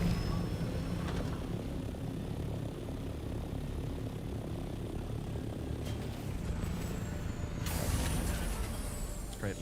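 A helicopter in a desert exploration survival game flies in and lands, a steady loud rotor and engine drone with mechanical whooshes and a sharp hissing burst near the end.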